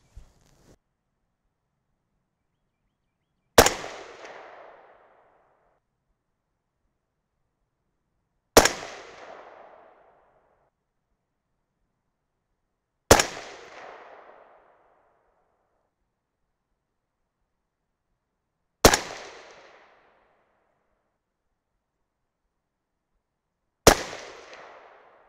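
Five suppressed 6.5 Grendel rifle shots firing 123-grain Sierra MatchKing rounds from a cold, dirty barrel, each a sharp loud crack with a short decaying tail, spaced about five seconds apart, silence between them.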